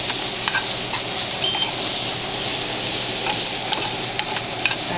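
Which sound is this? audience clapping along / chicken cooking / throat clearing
chicken cooking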